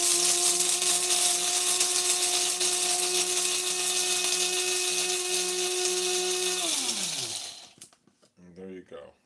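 An electric grinder grinds fresh coffee beans for a K-cup with a loud, steady whirring whine that holds for about seven seconds, drops in pitch as the motor spins down, and ends with a few rattles.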